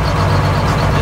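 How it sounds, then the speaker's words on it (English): Mechanical P-pump 12-valve diesel truck idling at a drag race event, a loud, rough, steady rumble close by with no talk. "This is about the best we can get at idling because this pump blows so much fuel at high RPM."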